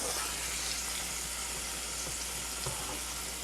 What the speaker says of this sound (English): We're going to put our mushrooms in first.